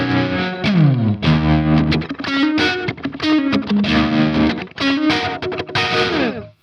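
Electric guitar played through a TC Electronic Plethora X3 effects processor, heavily distorted with echo, tap delay and tremolo, loud sustained chords and riffs in bursts with brief gaps, no talking.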